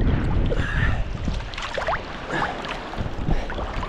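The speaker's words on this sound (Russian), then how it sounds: "ветер сильно дует." Strong gusty wind on the coast at Kemer, Turkey, buffeting the microphone, a continuous rough roar with uneven surges and faint whistling tones.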